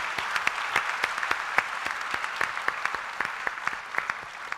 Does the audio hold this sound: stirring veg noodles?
no